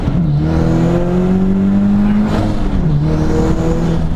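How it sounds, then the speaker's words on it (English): A Subaru BRZ with a Crawford turbo kit accelerates hard, its engine droning loud and steady with pitch climbing through a gear, dipping at a shift, then rising again, heard from inside the car. "the boost comes on quick. It's a very small turbo"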